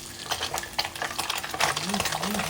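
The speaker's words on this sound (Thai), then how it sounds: "น้ำมันกระเด็นใส่เดี๋ยวจะเจ็บ" Snakehead fish and pork cracklings stir-fry in hot oil, with steady close sizzling and frying crackle under a spatula's repeated stirring scrapes, and a voice faintly audible beneath.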